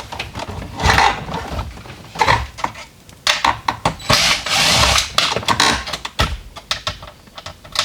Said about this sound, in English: the hood release mechanism is held on by 2 Phillips head screws. You can go ahead and remove those.